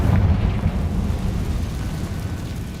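A Confringo blasting spell explodes in the Hogwarts Legacy video game, a loud deep rumbling boom that starts strong and slowly fades into a low roar.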